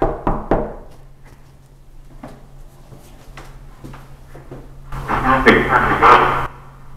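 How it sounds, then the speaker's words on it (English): Knocking on a door in an old manor, a few sharp raps near the start followed by softer taps and a louder rattling burst near the end, with people talking quietly around it. "If I knock on this door, will you knock back?"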